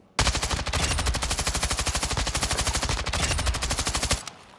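Rapid full-auto gunfire from a rifle in Call of Duty Modern Warfare II, a long loud unbroken burst of evenly spaced shots with a brief pause near the middle, stopping abruptly at the end.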